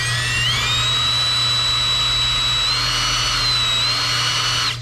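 A power drill whines at a steady high pitch, loud and close, drilling into an LS 5.3 engine block, with a slight shift in tone partway through before cutting off at the end.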